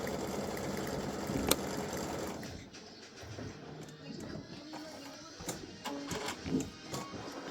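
An embroidery machine stitches an appliqué for a champagne-glass side-seam design, its fast rhythmic needle chatter heard softly at close range while someone talks over it.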